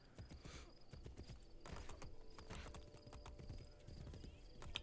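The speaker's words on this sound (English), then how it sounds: "Come here, horse." Horse hooves clip-clopping in Assassin's Creed, a steady run of close, fairly loud hoof beats with game ambience behind them and a possible brief whinny.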